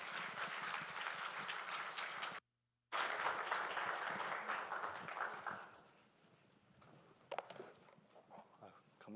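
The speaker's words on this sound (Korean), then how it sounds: "저희 선교사님 나오실 때 다 같이 박수로 환영해 주시면 감사드리겠습니다." A church congregation claps to welcome a missionary to the pulpit, dense applause that cuts out briefly, resumes, then thins to scattered claps.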